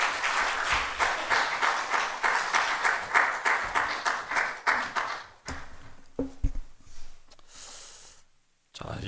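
A church congregation gives a big round of applause to welcome the pastor, dense rapid clapping for about five seconds that then thins out into scattered claps and room noise.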